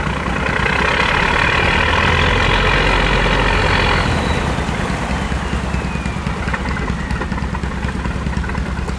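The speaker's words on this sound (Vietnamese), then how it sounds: "Bây giờ thì mình đi ra phía sau cho mọi người nghe cái tiếng động cơ này." A tugboat's diesel engine running steadily at the stern, a loud, continuous low rumble with mechanical clatter that holds constant throughout, close by and with no talk over it.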